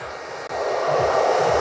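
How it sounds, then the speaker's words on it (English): A hair dryer blows steadily and loudly up close during a men's haircut, a continuous airy roar with a brief dip before the whoosh resumes. "just put the heat up, and just work, shake the hairdryer"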